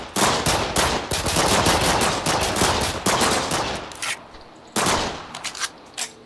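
Loud, dense gunfire rattles in sustained rapid bursts, thins into scattered shots, then swells again in another burst, with no voices heard.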